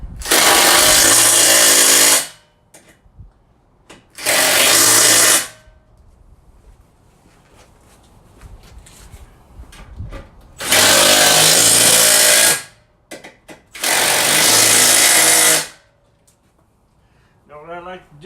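An impact gun runs on the strut brace nuts of a 2013 Mustang GT. Four loud, rattling bursts of about two seconds each are separated by quieter gaps.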